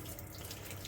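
Water rushes steadily through prospecting sample equipment used on hardrock gold ore from a mine, a close, continuous flow with no voices.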